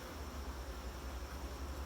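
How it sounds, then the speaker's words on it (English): Honeybees swarm around a hive whose honey supers are full, with robber bees among them. The buzzing is a soft, steady drone close by, with no talk over it. "Thief bees."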